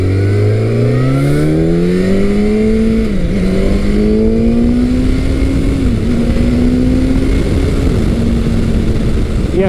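A motorcycle engine drones steadily at speed, its pitch climbing and dipping through gear changes as it rides along, loud and close throughout.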